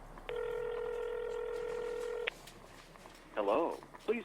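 Phone call sound effect in an audio drama: a steady, loud two-second tone, then a few short ringing or dialing bursts near the end.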